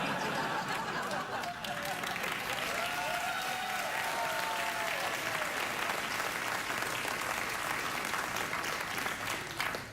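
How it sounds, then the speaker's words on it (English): A TV studio audience at the Late Late Show with Craig Ferguson keeps up steady, sustained applause, with a few chuckles mixed into the dense clapping. "Thanks, audience, for applauding."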